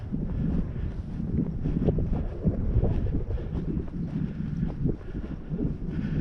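Strong wind on a high-country mountain hike, buffeting the microphone in a steady, loud, low roar with gusty surges throughout and no voices.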